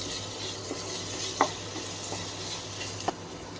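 Paneer bhurji frying in a pan as it is stirred, a steady soft sizzle with a few light scrapes and taps of the spoon against the pan, heard alone.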